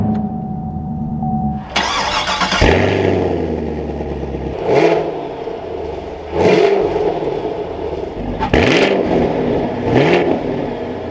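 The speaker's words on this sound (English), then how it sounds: "let's fire this back up and take a listen to that V8" A 2024 Chevrolet Camaro 2SS V8 cranks and fires up with a loud bark, settles into a rumbling idle, then blips the throttle several times in sharp revs that quickly fall back, close and alone.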